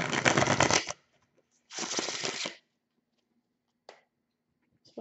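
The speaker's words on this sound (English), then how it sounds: "Just wanted to do that last shuffle." Tarot cards are riffle-shuffled close by on a table, two quick bursts of crisp flutter about a second each, followed by a few faint taps in an otherwise quiet room.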